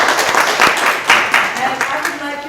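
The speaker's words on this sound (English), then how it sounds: "Let's clap for them." An audience claps in an uneven, sparse patter at a talk on reading habits, with individual hand claps standing out and some voices mixed in.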